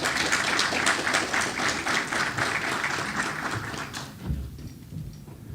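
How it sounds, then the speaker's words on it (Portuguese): An audience at a hydrography conference applauds to welcome a panelist, a loud burst of many hands clapping that thins out and trails off to near quiet, ending with a soft thump. "Uma salva de palmas,"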